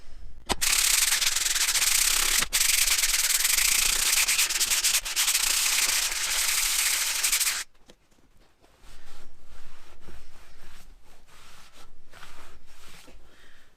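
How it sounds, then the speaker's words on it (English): Emery paper is rubbed briskly over the faces of Massey Ferguson drum brake shoes where the linings sit, giving a loud, steady rasping scrape for several seconds before it stops, followed by fainter handling sounds. "we're just going to rub a little bit of emery paper over the face where the linings sit"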